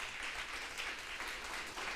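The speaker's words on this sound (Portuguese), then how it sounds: "Você podia aplaudir a Jesus, né, irmão?" A church congregation applauds for Jesus during a worship service, a steady, dense wash of clapping hands that holds at an even level throughout, with no one speaking over it.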